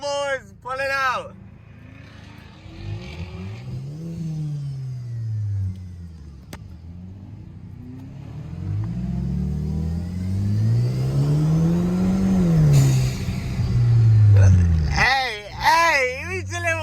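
Supercars accelerating as they pull out, engines revving and rising in pitch in long sweeps, fairly loud and close, with someone talking over the start and end.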